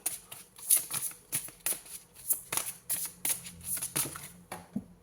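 Tarot cards being shuffled by hand, a quick run of riffling flicks and soft slaps, close and alone.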